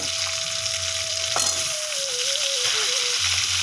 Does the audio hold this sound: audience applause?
no